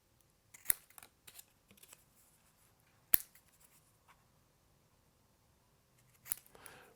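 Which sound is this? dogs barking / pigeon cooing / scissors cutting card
scissors cutting card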